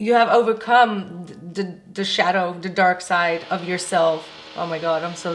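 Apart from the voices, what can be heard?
No everyday noise stands out behind the speech.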